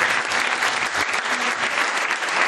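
Theatre audience applauding for a maestro at a season presentation in Rome's Salone Margherita, a full, continuous burst of many hands clapping at close range.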